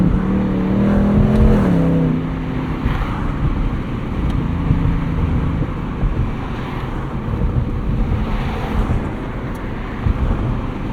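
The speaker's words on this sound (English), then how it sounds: "Echoing noise off of buildings that are a tenth of a mile away." A Ford Mustang Dark Horse V8 rumbles steadily through wind buffeting, its exhaust note echoing off buildings about a tenth of a mile away, with a rising engine tone early on and no talk.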